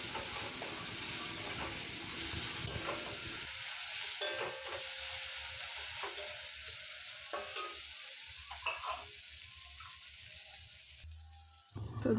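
Ground spices and salt frying in oil in a pan for a mushroom curry, stirred continuously with a scraping, sizzling sound, close and fairly quiet, with no voices.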